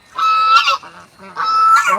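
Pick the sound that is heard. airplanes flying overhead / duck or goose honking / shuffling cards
duck or goose honking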